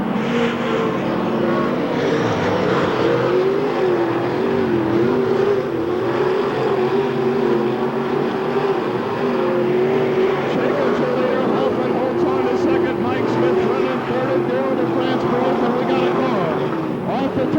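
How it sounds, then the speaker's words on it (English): Race cars circle the Hamilton County Speedway track at a 1993 fair race, their engines a steady, loud roar that rises and falls in pitch throughout, with an announcer talking over the noise. "And now Dave Sukup a problem with the number 7 car low on the racetrack."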